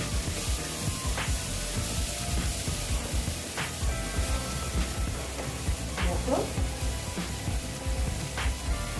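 Boal fish masala with Kashmiri red chilli powder sautés in a pan, a continuous close sizzle with occasional scraping stirs and faint clinks.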